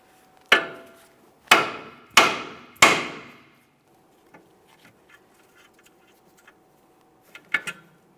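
Four sharp metallic hammer blows on the steering knuckle of a 2008-2017 Mitsubishi Lancer during front tie rod replacement, followed by soft clinks and a final pair of quicker taps.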